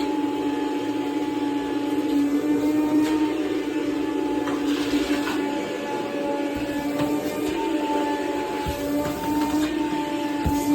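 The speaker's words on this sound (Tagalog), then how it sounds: "It's so good that we have the rainbow cleaning system." A Rainbow vacuum cleaning system runs steadily throughout, a continuous mechanical hum with a strong motor tone and a few brief bumps as it is moved during home cleaning.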